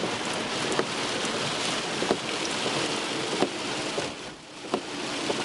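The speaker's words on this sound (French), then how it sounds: "Effectivement, il pleut et il pleut bien." Steady, heavy rain pours outdoors after overnight storms in Belgium, a close, dense hiss broken by a few sharp drips and knocks at irregular intervals.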